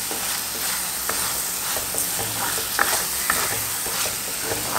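Spices fry in hot oil for a sea fish curry, a steady close sizzle broken by light scraping stirs of a spoon in the pan, with no talk.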